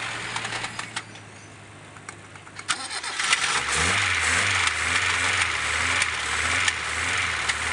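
A noisy Kia CD5 car engine turning over and catching, then settling into a steady low idle with some rattling and clicks, recorded close by in a garage.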